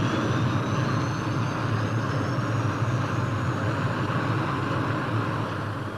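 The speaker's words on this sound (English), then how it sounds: "Engage rotors." A search and rescue helicopter's rotors engage aboard the aircraft carrier HMS Ark Royal in 1974: a loud, steady turbine roar fills the deck while a thin whine climbs gradually in pitch.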